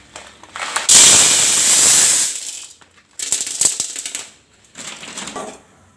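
Moong dal lentils dry-roasting in a pan and being stirred make dry, gritty rattling and scraping bursts, close up, coming in three separate stretches with short pauses between them.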